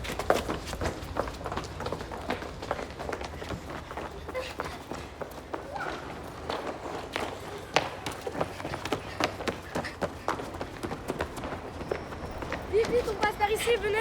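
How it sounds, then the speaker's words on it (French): Hurried footsteps of several people running to a hiding place, a steady patter of quick steps with taps and scuffs, mixed with close, breathless voices talking throughout. "On va courir le plus vite possible"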